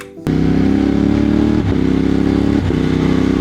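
Moto Morini X-CAPE 1200 motorcycle accelerating hard and shifting up, the engine bursting in loud and close, then two brief dips in its steady droning note as gears change.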